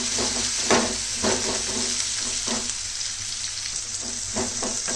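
Onion and green chilli fry in oil for a Chettinad chicken gravy, a loud continuous sizzle close by with repeated spoon strokes stirring through it.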